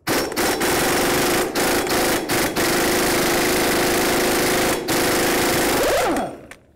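An impact wrench hammers loudly and continuously for several seconds with a 36 mm socket on the axle nut of a 1984-2001 Jeep Cherokee, with brief pauses before it winds down at the end.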